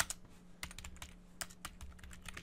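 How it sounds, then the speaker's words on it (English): Rapid clicks of a computer keyboard as someone types while building an HTML and CSS web page template, keystrokes irregular and fairly close, quiet and alone with no talk. "I actually hit the uppercase key when I was typing uppercase"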